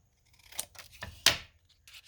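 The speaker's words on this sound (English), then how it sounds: "And then we're going to cut this off." Paper snipped with scissors while making a faux envelope embellishment, several close, quiet crisp cuts in an irregular rhythm with one sharper snip near the middle.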